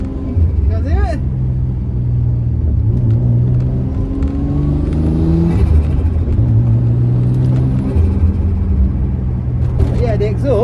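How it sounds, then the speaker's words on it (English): A Nissan R33 Skyline's exhaust, not yet properly tuned, rumbling steadily in a low, smooth drone while the car cruises and shifts pitch slightly, heard loud and close from inside. "the exhaust, I like. Nice and smooth."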